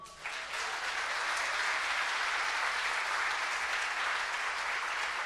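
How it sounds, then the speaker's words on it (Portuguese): A church congregation breaks into steady, dense applause that starts abruptly and holds loud and even throughout, with no voices on top. "aplaudam o Senhor."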